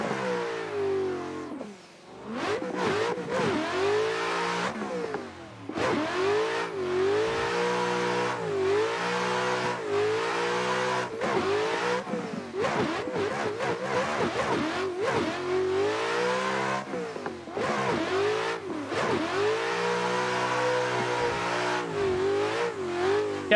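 A Nissan S15 drift car's engine revs hard on a track, rising and falling over and over through the gears, steady and fairly close with brief dips between pulls.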